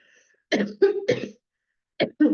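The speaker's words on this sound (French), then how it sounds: "Excusez-moi, je tousse." A person coughs close to the mic in a quiet room: three rapid harsh bursts, a short silence, then two more coughs.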